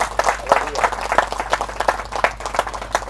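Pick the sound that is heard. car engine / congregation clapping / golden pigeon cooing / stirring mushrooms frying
congregation clapping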